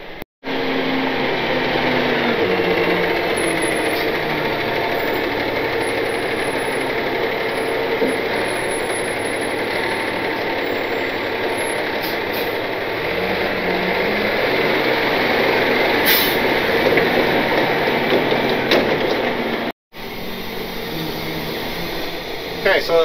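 Hay squeeze machine engine running steadily on a farm that presses and moves hay bales, a loud, continuous mechanical drone with a whine and faint ratcheting, heard alone with a brief cutout near the end.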